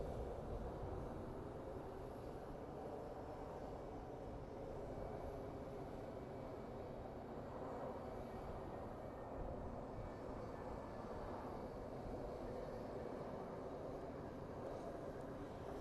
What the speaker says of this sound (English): And here we have a Frontier flight landing